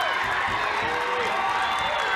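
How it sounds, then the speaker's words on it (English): A college softball crowd cheering and making noise in a steady, continuous roar, heard under a commentator's talk. "Crowd making some noise here."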